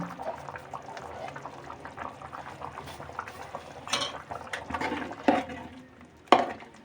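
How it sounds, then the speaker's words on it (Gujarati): Desi chicken curry simmering in a pot with kasuri methi, giving a low steady bubbling with a few louder pops and spits near the end, close by and with no talk. "હવે દસ મિનિટ સડવા દઈશું એટલે મસ્ત મજાનું ચિકનનું શાકે તૈયાર થઈ જાય"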